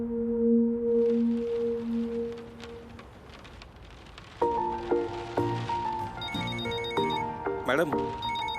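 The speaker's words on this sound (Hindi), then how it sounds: "निक्सन का फोन आ रहा है" A phone rings in repeated electronic bursts while people talk nearby, then a melodic ringtone pattern continues over rainy background noise.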